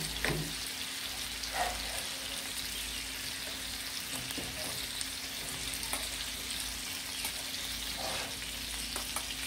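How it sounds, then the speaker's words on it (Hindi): Goat liver masala with onion and tomato paste frying on a tawa, giving a steady, close sizzle with occasional stirring scrapes throughout and no talking. "अब इसको अच्छी तरह फिर फ्राई करते हैं।"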